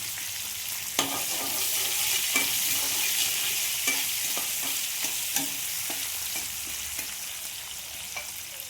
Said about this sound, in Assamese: এইখিনি অকণমান সময় মই ভাজি লওঁ।